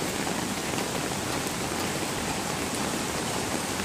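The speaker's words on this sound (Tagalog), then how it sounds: "lakas ng ulan dito" Heavy rain pours steadily over a car park, a dense, unbroken hiss of drops drumming on surfaces all around, loud and close with no let-up.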